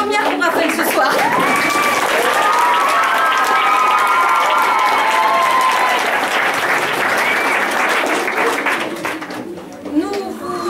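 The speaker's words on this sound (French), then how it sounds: "On va applaudir Raphaël parce que c'est la première pour Raphaël ce soir." Loud, sustained applause from a show audience, thick crowd clapping with some cheering and voices mixed in, staying full for most of its length before easing near the end.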